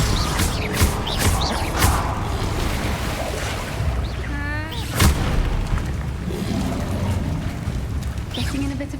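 Bombarda explosion spell cast in the video game Hogwarts Legacy, several deep booming blasts with a whooshing, warbling burst in the middle over a continuous rumbling game soundscape.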